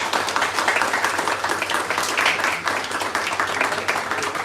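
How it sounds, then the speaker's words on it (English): Audience applause at a company townhall meeting, a steady wash of many hands clapping throughout at moderate, somewhat distant level, with no talk over it. "Big round of applause."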